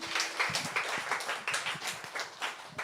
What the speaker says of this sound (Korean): 박수로 부탁드립니다.